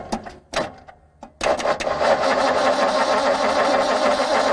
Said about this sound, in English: we're about to just crank this engine that's been sitting for who knows how long